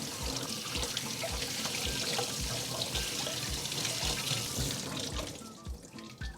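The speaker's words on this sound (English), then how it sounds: "After rubbing with the salt, rinse the chicken to remove any impurities and gamey flavor." Tap water runs steadily into a sink while chicken thighs are rinsed, a continuous close splashing flow with small irregular sloshes before it eases off near the end.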